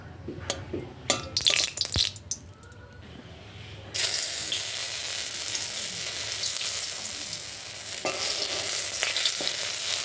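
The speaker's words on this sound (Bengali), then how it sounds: "তেজপাতাটা একটু পোড়া পোড়া হলে তারপর আমি সব পাঁচ ফোড়ন আর আদাটা দিয়ে দেবো" Bay leaf, panch phoron and ginger hit hot oil in a home kitchen, bursting into a loud, steady sizzle that holds for the last several seconds after a few earlier clatters and knocks.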